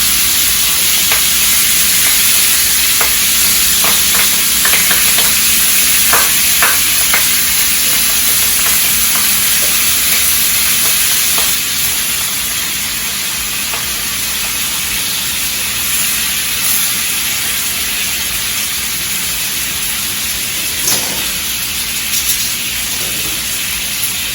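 Pork chops fry on a stovetop with a continuous loud sizzle and hiss, broken by a few utensil clicks early on.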